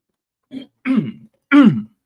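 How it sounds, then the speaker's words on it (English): Three short throat-clearing bursts in quick succession, close and fairly loud, the last one strongest, with no talking. "I think I almost blacked out trying to clear my throat."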